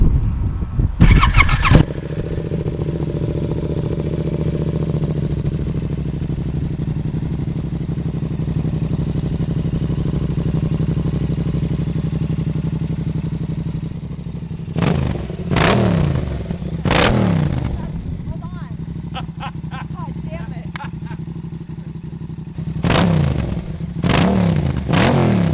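A Yamaha R7 motorcycle with a full M4 aftermarket exhaust cranks and catches, then settles into a loud, deep, throbbing idle with a few sharp blips of revving near the end.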